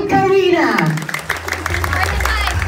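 Crowd at a KARJONiversary fan event gives Team Karina a round of plain hand-clapping with no shouting, dense applause that follows a brief voice at the start and continues to the end.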